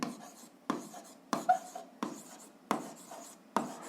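Pen on paper during a seventh-grade algebra exercise, with short scratchy strokes coming in a steady rhythm of about six bursts, close and quiet.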